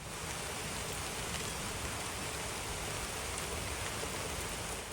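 Steady rain falling outdoors, a dense continuous hiss of drops on surfaces at even loudness throughout, with no voices.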